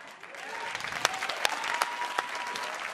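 Audience at a stand-up comedy show breaking into applause, a dense steady burst of clapping with a few louder individual claps standing out, a voice faintly present beneath.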